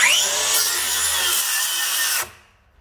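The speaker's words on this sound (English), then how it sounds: "Okay, Dewalt Flexvolt. Now we're going to do a grain cut on it." A Dewalt Flexvolt 7-1/4-inch circular saw rips along the grain of a wood board, a loud, close, high-pitched whine under load that cuts off sharply and spins down near the end.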